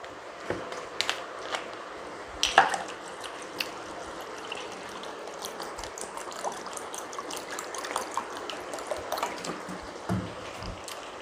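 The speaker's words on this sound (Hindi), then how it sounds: "थोड़ा पानी ऐड कर देती हूँ इसमें मैं।" Water trickles into a pot of Kashmiri mutton rogan josh curry, a faint, uneven splashing with small clinks and bumps across the clip.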